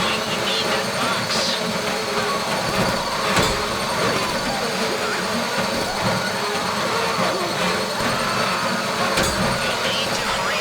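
A power drill grinds steadily into a safety deposit box inside a Fleeca bank vault in GTA Online, a loud unbroken mechanical drone with a few brief sharper clanks over its length.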